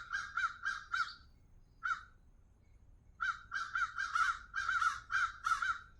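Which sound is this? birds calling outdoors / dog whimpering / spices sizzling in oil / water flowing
birds calling outdoors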